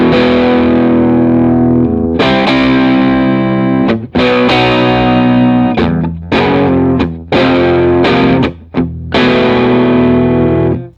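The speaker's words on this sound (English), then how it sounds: "Almost sounds like a distorted channel with the boost on." Electric guitar through a Mesa Boogie F100 amp with an Amazon boost pedal switched on, giving a thick, distorted, loud tone, strummed chords with brief breaks, no talking.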